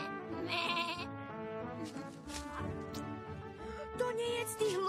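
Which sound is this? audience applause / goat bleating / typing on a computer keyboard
goat bleating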